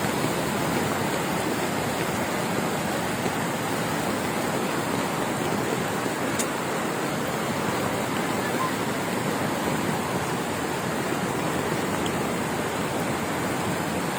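Broad, unbroken rush of floodwater surging through a flooded area in Leyte, Philippines, a steady roaring hiss that holds constant throughout without pause.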